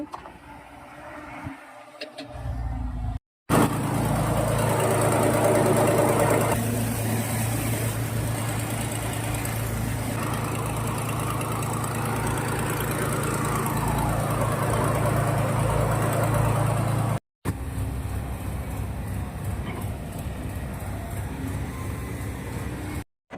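Engine of a sand dredging machine on the Tungabhadra river runs at a steady idle-like drone, loud and close, continuous for long stretches with abrupt cuts in between.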